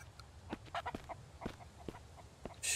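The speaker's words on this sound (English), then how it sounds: "Shut up, chicken." A chicken in the video game Mist Survival clucks in short, quiet, irregular bursts, close by and soft against a low background hum.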